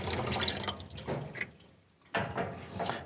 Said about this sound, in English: You can turn the tap on, it projects that water through the suction tube